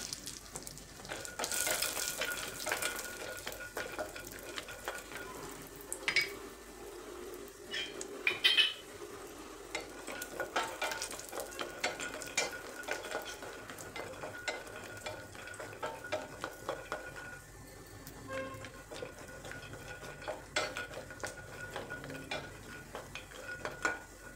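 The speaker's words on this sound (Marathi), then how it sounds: "थोडंसं तूप घालायचं म्हणजे व्यवस्थित भाजले जातात बदाम." Almonds and cashews roasting in a little ghee in a pan while being stirred, with a steady soft sizzle, repeated scraping of a utensil against the pan and occasional metallic clinks, close and continuous.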